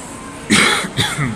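A person gives a sudden close cough followed by a smaller second one, loud and near, with a brief throaty catch between them.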